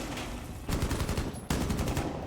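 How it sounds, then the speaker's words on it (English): Rapid automatic gunfire rattles in Rainbow Six during a competitive esports match. Two dense bursts come in quick succession, loud and close, with no talk over them. "investigating where the gunfire is coming from"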